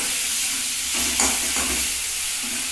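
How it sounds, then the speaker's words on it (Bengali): Potatoes fry in oil in a pan as a short stretch of steady sizzling, with a few soft stirring scrapes near the middle and no talk. "আলুটা একটু ভাজা হোক"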